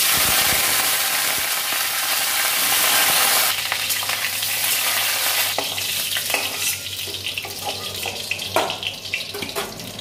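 Cauliflower frying in mustard oil in a pan for potato and cauliflower curry, a loud continuous sizzle that changes midway into bubbling crackle with scraping stirs, close up and without talk.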